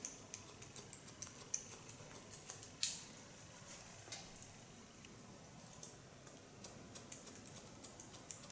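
Scissors snipping hair with a point-cut technique during a haircut: a run of faint, quick, crisp clicks and snips at an irregular pace, with one sharper snip, close up and quiet.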